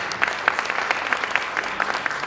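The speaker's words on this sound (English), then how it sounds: "A huge round of applause for our amazing panelists." An audience at a women entrepreneurs' conference claps for panelists at the end of a discussion, a steady patter of many hands with sharper individual claps standing out, no voices over it.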